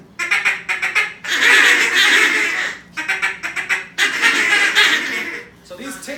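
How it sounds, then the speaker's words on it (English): Duck calls blown at a youth duck-calling seminar, practising a six-note feeding pattern of three ticks and three tocks: quick clipped quacking bursts followed by long, loud, raspy sustained blasts, repeated twice, close and clear. "when you do a feeding call when you're hunting, you're doing a mix of ticks and tocks"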